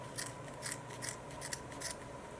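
Scissors snipping yarn on a braided pumpkin stem, five quick, light cuts spaced evenly over a low steady background hum, close and fairly quiet.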